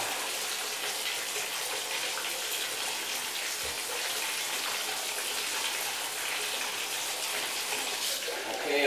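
Water running steadily from a tap while a cat is bathed, a constant bright hiss that fills the whole stretch, loud and close, with no clear talk over it.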